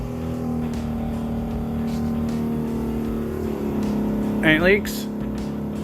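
A Ford Pinto race car engine runs at a steady idle after a Holley carburetor rebuild, a low rumbling drone with a short rise in pitch near the end. Someone talks over it.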